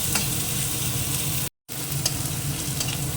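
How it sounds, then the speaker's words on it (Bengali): Onions fry in a pan with whole cumin and cardamom, a dense, steady close sizzle with faint stirring, interrupted by a brief moment of silence midway. "পেঁয়াজটা একটু ভাজা হতে থাক"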